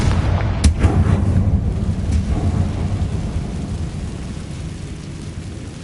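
A Confringo fire blast spell goes off in a Harry Potter wizarding video game, giving a sharp crack near the start followed by a deep rumbling, explosive roar that slowly fades.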